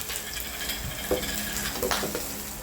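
Ginger being sautéed in a pan, a continuous sizzle with scraping stirs and occasional utensil knocks against the pan, moderately quiet.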